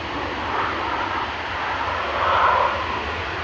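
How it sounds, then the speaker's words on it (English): A Ryanair Boeing 737-800 from Milan touches down at Manchester Airport with a steady, loud jet roar that swells briefly near the end, with no voices. "touching down there, 737-800"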